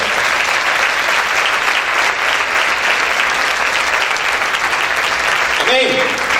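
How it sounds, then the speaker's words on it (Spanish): A church congregation claps strongly and steadily, a thick, loud applause that carries on throughout, with a voice briefly rising over it near the end. "Dale ese fuerte aplauso al Señor"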